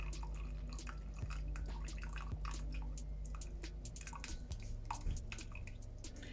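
Boiled sorrel liquid for a Jamaican sorrel fruit cake being strained, a steady wet pouring and dripping with a few sharper splashes and clinks close by, with no talking.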